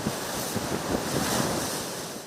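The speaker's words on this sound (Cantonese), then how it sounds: "海面幾乎全部都係白頭浪，一浪接一浪，濺起嘅浪花有燈柱咁高。" Typhoon waves crash along the Hong Kong seafront under a gale-force wind. The roar of surf and gusty wind is loud and continuous, with microphone buffeting and no voices.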